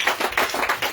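A congregation claps in quick rhythmic bursts, five or six sharp claps in a steady beat, at an evangelist's teaching service on baptism in Fahala, Touba.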